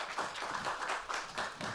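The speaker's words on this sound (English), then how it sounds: "I'm clapping for Carolyn" Audience applause for Carolyn at a panel discussion, a steady wash of many hands clapping at moderate level throughout, without pauses.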